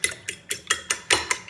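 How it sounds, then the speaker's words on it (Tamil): Egg white is whisked into milk in a bowl for a KFC-style chicken batter, giving a rapid, regular train of about eight sharp clicking strokes, close and fairly loud. "நல்லா பாலும் அந்த முட்டைக்கருவும் மிக்ஸ் ஆகிற மாதிரி அடிக்கணும்."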